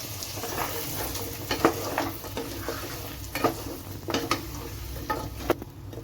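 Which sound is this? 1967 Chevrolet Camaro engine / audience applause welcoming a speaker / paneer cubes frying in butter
paneer cubes frying in butter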